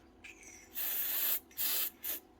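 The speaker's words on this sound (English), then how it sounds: "Give it a wee spray, a silicone spray." Silicone spray aerosol being sprayed into the speed selector switch of a Dewalt power tool under repair, heard as three close, loud hissing bursts, the first long and the next two shorter, with no voices.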